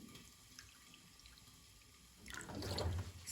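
Water runs into a bowl to make rice flour pancake batter. A quiet kitchen gives way to a steady close trickle and splash during the final second, with no one speaking.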